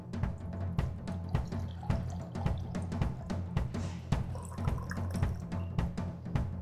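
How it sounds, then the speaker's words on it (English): Hot filtered water pours and splashes into the base of a stovetop coffee maker, a continuous close trickle with small drips and clinks, heard alone without talk. "So transfer your hot water."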